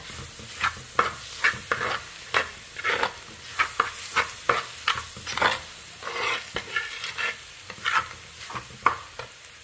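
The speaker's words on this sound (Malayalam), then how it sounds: "ഇത് നമുക്ക് നല്ലപോലെ ഇളക്കി കൊടുക്കാം" Onions and dried red chillies frying in a pan are stirred with repeated sharp scrapes in an uneven rhythm over a steady, close sizzle; no voices.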